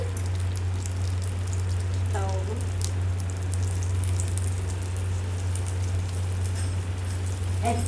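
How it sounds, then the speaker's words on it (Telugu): Veg pockets fry in a little hot oil in a pan, giving a steady, close crackling sizzle under a constant low hum, with a few faint clinks. "కొద్దిగా ఆయిల్ పోసి ఆయిల్ వేడెక్కాక ఇలా వేసుకొని"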